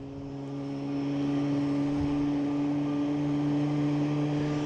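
A Virgin Atlantic airliner from London Heathrow passing overhead on approach near Boston Logan, a steady droning engine hum with strong tonal whine that swells within the first second and then holds loud and constant.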